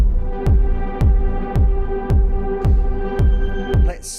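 A heavily distorted kick drum pounds in a music production session, eight evenly spaced booming thumps about half a second apart over a sustained tonal drone, ending in a brief noisy burst.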